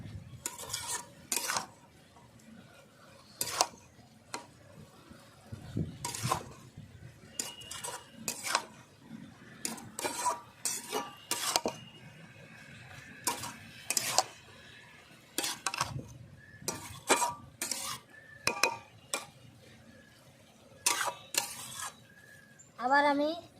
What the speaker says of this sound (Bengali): আমি ভালো করে নাড়িয়ে দিচ্ছি